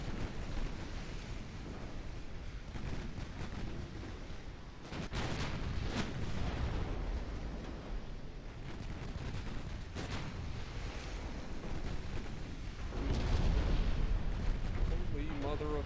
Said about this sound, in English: Landed multiple torpedoes.